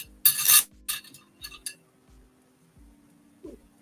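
A metal teaspoon scoops apple cider vinegar and clinks against a jar and dish, a few sharp close chinks and taps followed by quieter scrapes and a small splash, with no talking.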